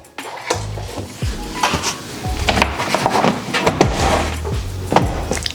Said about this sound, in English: I'm going to put this lid back on it.